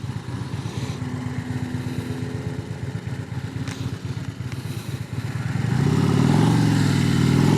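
Harley-Davidson motorcycles rumble with a steady, pulsing idle, then the engine note thickens and grows louder near the end as a bike revs up close by, with no talking.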